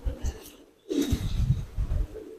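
A Rampuri pigeon coos softly in short low bursts, close by, with a brief pause partway through.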